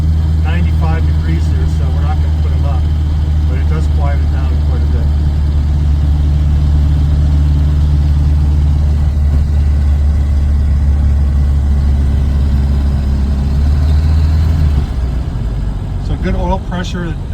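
A car engine runs steadily at idle, a deep low hum that holds nearly constant throughout, with a few faint voice-like sounds over it.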